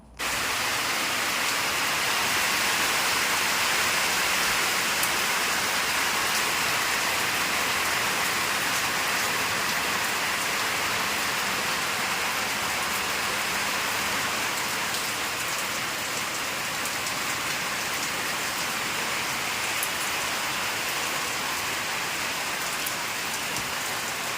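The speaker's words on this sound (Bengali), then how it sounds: "তো বাইরে হচ্ছে অঝরে বৃষ্টি" Heavy rain pours outside in a dense, constant hiss that stays loud and unbroken throughout.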